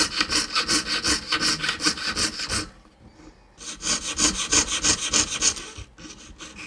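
Steady rhythmic back-and-forth strokes of a fine jeweler's hand saw piercing out the inside of a metal design from a drill hole, close up, with a brief pause midway before the sawing resumes.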